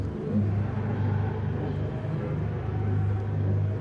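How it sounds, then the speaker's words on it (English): A Lamborghini Veneno engine rumbles steadily at close range, a deep sustained drone with slight swells and no speech over it. "He's going to be followed by the Lamborghini Veneno."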